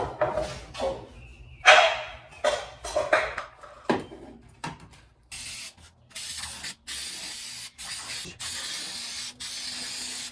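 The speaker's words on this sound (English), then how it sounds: "this spray is awesome. It's spray on, 30 seconds later, bond them together, done" 3M spray adhesive is sprayed from a can. After some rubbing and handling noises, loud, close hissing bursts follow one another with brief gaps between them.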